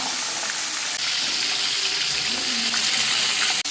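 Food deep-fries in hot oil over a medium flame, giving a loud, dense, continuous sizzling hiss that swells briefly and then cuts off abruptly near the end.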